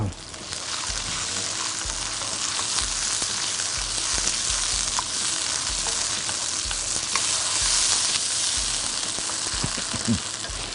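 Chili paste and chicken stir-fried in a hot pan for a Thai spicy stir-fry, with a steady loud sizzle and frying hiss, occasional scrapes of stirring, and brief faint talk.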